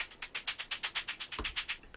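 Hi-hat in a hip-hop beat, pitched by transposition automation: a quick, even run of about a dozen soft, crisp ticks over two seconds, with a brief low thump near the end.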